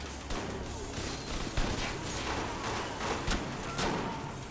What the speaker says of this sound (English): I do like that shotgun